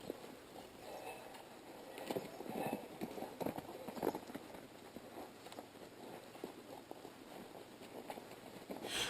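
A horse on a halter walks in circles around its handler, its hooves falling in a soft, irregular clip-clop at a moderate distance over faint background noise.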